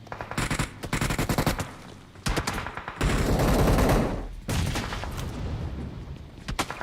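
Rapid bursts of automatic gunfire from the PUBG Mobile battle royale game, dense overlapping shots in several volleys with a sustained heavy stretch in the middle, loud and close with no talking.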